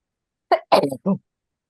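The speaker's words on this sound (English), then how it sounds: "Sneezing, I think" A short, sharp sneeze bursts out close by, followed quickly by a brief second expulsion.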